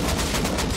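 Gunfire in the survival video game Rust, a short burst of loud, rapid shots that fill the whole moment with no pause between them.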